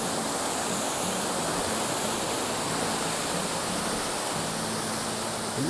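A strong waterfall on the Appalachian Trail pours with a continuous broadband rush, unbroken and nearby for the whole stretch, and no voices are heard.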